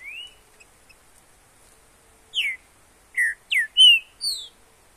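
A trinca-ferro (green-winged saltator) singing in the woods gives a few short, bright whistled phrases in a quick burst, standing out clearly against an otherwise quiet forest background.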